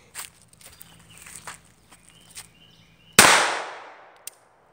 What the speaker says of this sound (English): It's my favorite pistol right now. And he's about to shoot it.